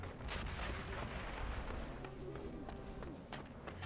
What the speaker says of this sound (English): You can't hear him over the sound of the shots.